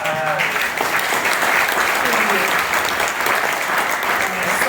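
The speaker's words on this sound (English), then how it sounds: "Clap it up for everybody who's gotten up here and shared their beautiful words" Audience applause at a tribute event, a dense steady wash of many hands clapping for the full length, loud and close with some voices mixed in.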